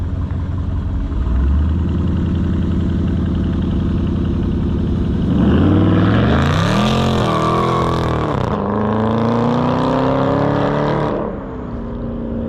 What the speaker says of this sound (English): See, he took off good. Yeah. And he spun going into the second one.